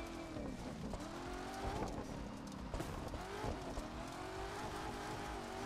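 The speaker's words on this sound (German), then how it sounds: "Jetzt hat er voll überdreht, der Wagen." Hypercar engine in The Crew 2 revving hard and over-revving through corners, a continuous loud whine with rising and falling pitch sweeps, joined by brief tire squeal, no talking.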